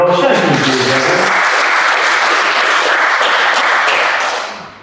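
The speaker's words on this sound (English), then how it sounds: "Come on, give a round of applause." Loud, sustained audience applause fills a car dealership showroom at the launch of the new Kia EV6, beginning over a speaking voice and then fading at the very end.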